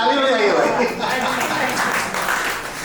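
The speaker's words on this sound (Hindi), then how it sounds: "अरे ताली बजाइए भाई।" An audience clapping at a retirement ceremony, a spread of applause from a hall, heard under someone speaking.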